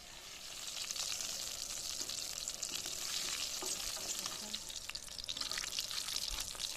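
Steady crackling sizzle of urad dal tempering in hot oil, continuous and close, with occasional clinks and stirring noises.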